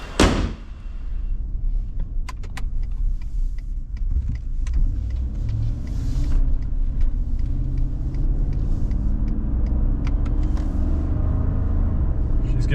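A Ford F150 pickup with a 5.0 engine sets off on a test drive after timing chain and cam phaser work, a door thump followed by a steady low engine rumble from inside the cab with a few faint clicks.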